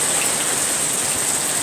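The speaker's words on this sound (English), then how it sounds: "we got rain." Steady outdoor rain near a fence and bird bath, a dense, even hiss of drops falling without pause and no speech over it.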